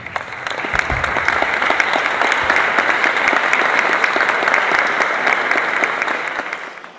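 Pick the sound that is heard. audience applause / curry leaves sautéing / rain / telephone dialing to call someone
audience applause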